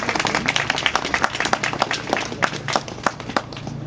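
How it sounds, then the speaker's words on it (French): Scattered clapping from an audience at a plaque inauguration honouring Aimé Césaire, individual sharp claps audible over a low murmur in a modest gathering, moderately close. "Oui, je crois que vous pouvez applaudir"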